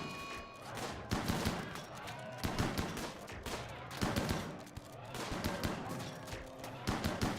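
Gunfire in the colony-building game Rimworld comes as clustered bursts of sharp shots, repeated several times over a busy, moderately loud stretch with a steady bed of game sound underneath.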